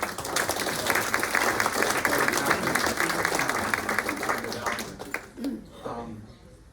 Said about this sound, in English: Brian, round of applause to you